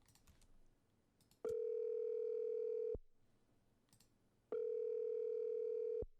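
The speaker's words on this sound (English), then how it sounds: "this audio clip here is, just basically a dial tone or like a phone ringing." A steady telephone dial tone sounds twice, each lasting about a second and a half, with short gaps of faint clicking and tapping between them.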